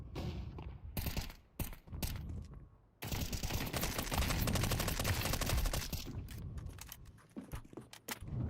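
Negev machine gun fired in the game CS2, with rapid sustained automatic bursts forming a dense roar in the middle, surrounded by sharper individual shots and pauses.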